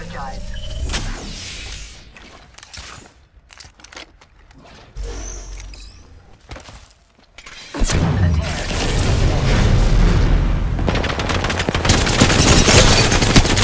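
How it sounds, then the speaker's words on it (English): Gunfire in Apex Legends: bursts of shots and booms in the first half, then dense, loud sustained firing and explosions filling the second half, with speech mixed in. "Listen up, I'm getting shot at."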